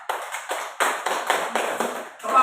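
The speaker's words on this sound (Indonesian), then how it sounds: "Tepuk tangan tapi di atas kepala" A group of adults clap their hands overhead in a training session, a few loose rhythmic bursts of claps, close and fairly loud, ending in a louder flurry.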